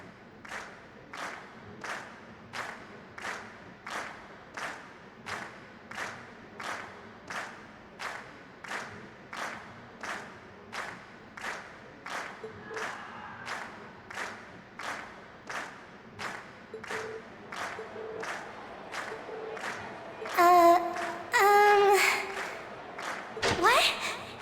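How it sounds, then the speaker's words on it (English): Crowd applause with rhythmic, evenly spaced clapping in steady unison from a video game event audience in Trails of Cold Steel, continuing throughout with a brief louder burst of cheering and bright tones near the end. "we've heard your cheers loud and clear"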